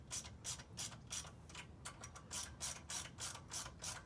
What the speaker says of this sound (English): Take our 10 millimeter wrench, and I'm just going to start each nut just so it's touching the billet housing.